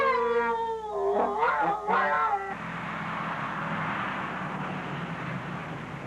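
A pet dog howls in a long, wavering, tonal cry that rises and dips for a couple of seconds, then gives way to a steady background hiss.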